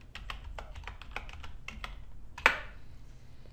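Keys clack steadily on a computer keyboard as a resident registration number is entered on a shopping site's mobile payment form, a quick run of close, crisp taps with one sharper keystroke near the end, over a low background hum.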